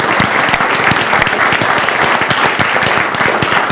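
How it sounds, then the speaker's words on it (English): Loud, dense audience applause for panelists at an ocean technology conference, many hands clapping close and steadily throughout with no voices over it. "let's give a round of applause to the panelists"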